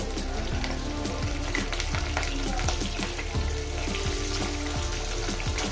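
Potatoes, still a little wet, sizzle and crackle steadily in hot oil in a home kitchen pan, a dense continuous fry with sharp pops, close and fairly loud, no talking.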